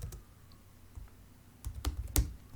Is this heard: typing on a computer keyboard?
yes